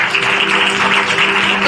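Congregation clapping their hands together to thank the Lord at a church service, a loud, dense and continuous round of applause.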